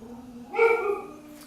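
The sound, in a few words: pet dog whimpering and barking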